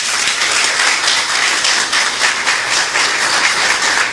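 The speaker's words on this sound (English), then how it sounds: "Let's give her a round of applause." Audience applause at a political running-mate unveiling event, a dense, continuous wash of clapping at steady loudness with no voices standing out.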